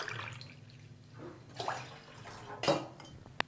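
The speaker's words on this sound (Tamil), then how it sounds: "அதுக்கு 2 டம்ளர் தண்ணி ஊற்றிக்கிறேன்" Water is poured from a tumbler into a metal pan to make sugar syrup for gulab jamun. Faint splashing and clinking of the pan come in short bursts, ending with a sharp tap, in a quiet kitchen.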